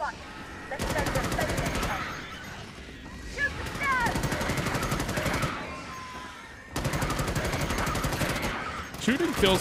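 Bursts of automatic gunfire from Starship Troopers: Extermination, three long rapid volleys with short gaps between them, loud and close, mixed with game effects and a voice talking over parts of it.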